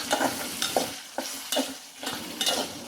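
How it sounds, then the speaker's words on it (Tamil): Bitter gourd tamarind curry bubbling in a pot on a South Indian stove while a spoon stirs it, with close, rhythmic scraping strokes about every half second over a continuous sizzling simmer, and no voices. "ஒரு 5 நிமிஷம் நல்லா கொதிக்க விடுங்க."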